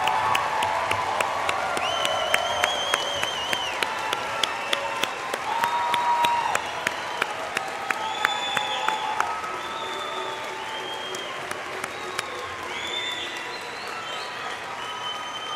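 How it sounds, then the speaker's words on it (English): A graduation audience applauds its bachelor's degree graduates, a long, steady wash of clapping from a large crowd with scattered whoops and cheers rising through it, lasting throughout and fading a little toward the end. "Now it's time for the audience to stand up as you're able and applaud our graduates."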